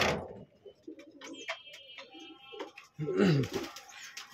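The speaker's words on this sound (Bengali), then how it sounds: "কবুতরগুলো খাবার জন্য ছটফট করতেছে" Pigeons coo in a low, throaty chorus, with fluttering and chirps mixed in and a burst of louder cooing near the end, nearby and busy.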